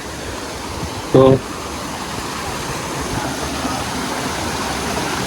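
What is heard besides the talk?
Sahasradhara waterfall with lots of water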